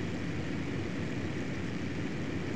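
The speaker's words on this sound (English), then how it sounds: "But luckily, our plane is fast." Steady propeller airplane engine drone from a flight combat video game, loud and continuous with no talk over it.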